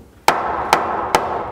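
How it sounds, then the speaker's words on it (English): Three sharp, evenly spaced hammer blows knock a straight but dirty board into place during a home remodel, each strike close and loud with a short ringing decay. "You're probably gonna have to hammer that side in."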